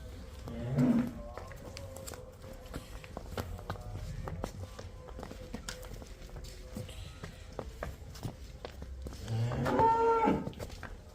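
A Jersey cow on a farm gives a low moo near the start and another louder one near the end, with hoof steps, clatter and faint voices between.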